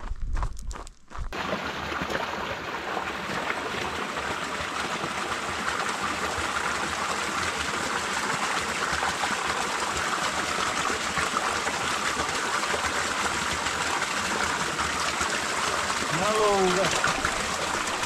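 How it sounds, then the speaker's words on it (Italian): A mountain stream in Val d'Oten, with a steady broadband rush of flowing water continuing throughout, loud and close. A brief dip occurs near the start, and faint voices and movement may sit underneath. "acqua fresca, acqua buona"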